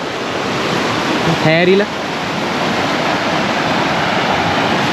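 Flood water rushes as a swollen stream through a vegetable garden in Sri Lanka after Cyclone Ditwa, making a steady, loud, close roar, with a short spoken word briefly heard over it.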